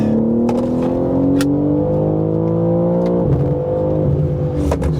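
A BMW M3 CS (G80) on a race track pulls hard through the gears, its engine note climbing steadily and then dropping sharply at a gear change before building again, loud and close throughout.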